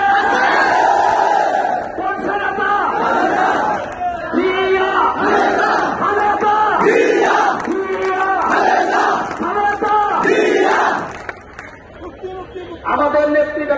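A large crowd at a BNP political rally in Chandpur chants slogans in loud, rhythmic call-and-response bursts, voices swelling and falling in repeated waves that close around and drown out a lead voice.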